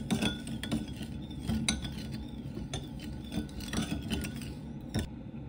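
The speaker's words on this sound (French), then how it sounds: "4 cuillères d'eau, je mélange." A spoon stirs water with sugar in a small bowl, its repeated clinks and scrapes against the sides coming close and clear in a quick irregular rhythm.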